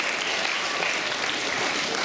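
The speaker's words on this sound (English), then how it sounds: "let's get a round of applause for those guys" A talent show audience applauds the donors, a brief burst of steady, even clapping from a room full of people.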